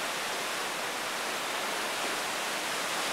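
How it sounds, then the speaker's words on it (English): Wild surf off an ocean shore on a clear day with surfers out, heard as a steady, dense broadband roar of breaking waves that holds unbroken and fairly loud throughout, with no talking. "There's the ocean today. It's quite wild and beautiful."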